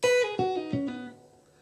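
A plucked guitar plays a short single-note line of about four notes descending, each note ringing and fading, with no voices.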